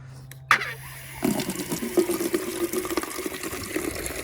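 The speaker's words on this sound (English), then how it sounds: "I'm gonna water that down again, but I'm gonna use the hose water. So I just take my little bin" Hose water pouring into a small bin outdoors, starting after a brief click and then running as a steady, splashy rush that continues to the end.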